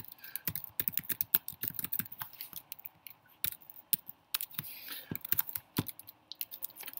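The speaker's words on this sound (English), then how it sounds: "now bear with me as I type through things" Typing on a computer keyboard, irregular bursts of sharp close key clicks and clacks with pauses between, fairly quiet and alone.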